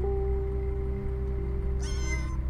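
A fly in a cockroach video game lets out one short, bright cat-like meow near the end, following a stretch of steady background hum from the game.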